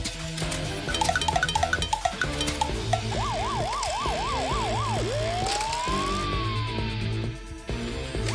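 Cartoon police car sirens wail up and down over bright, toy-like musical tones, ending in a long rising and falling swoop.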